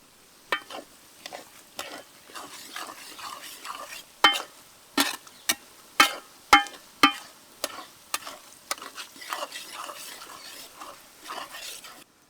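Curry leaves frying in hot oil for a North Karnataka ridge gourd dish, with a steady sizzle under repeated sharp scrapes and clacks as a spoon stirs the pan, close and busy throughout.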